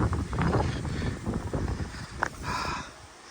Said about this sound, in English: Very windy day here.